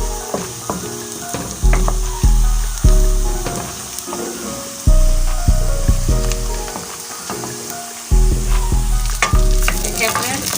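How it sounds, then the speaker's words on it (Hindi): Onions fry in a pan with a steady, close sizzle, broken by repeated clanking and scraping as a utensil stirs them against the metal. "प्याज हमारी ब्राउन होना शुरू हो गई है। अब हम इसे 2 से 3 मिनट और ब्राउन करेंगे।"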